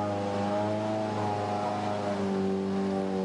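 Citroën DS3 WRC rally car engine at the Rally Mexico, a steady droning idle with a rich harmonic hum and slight pitch shifts, close and continuous with no talk.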